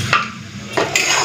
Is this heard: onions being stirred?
yes